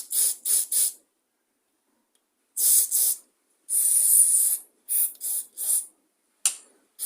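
Carburetor cleaner spray blasts into the small passages of a line trimmer carburetor that has sat unused a long time, a series of short sharp hissing bursts close up, separated by silent pauses.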